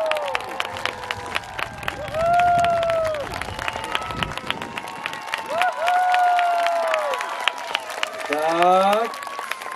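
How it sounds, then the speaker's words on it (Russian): An outdoor crowd at a military-historical reenactment festival claps and cheers, sharp irregular claps over swelling crowd noise, with people talking and calling out throughout. "Аплодисменты."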